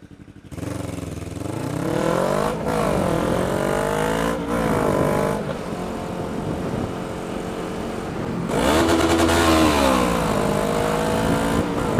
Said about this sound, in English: he rev-bombed me